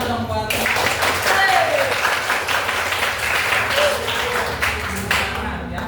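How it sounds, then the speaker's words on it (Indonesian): A classroom of vocational school students claps together for a classmate, a lively, close burst of applause lasting several seconds with voices mixed in. "Tepuk tangan dong buat."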